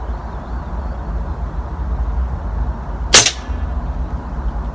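A single sharp shot from an AP 900 air rifle fired at a paper target, a brief crisp crack near the mic that stands out clearly against steady low outdoor background noise.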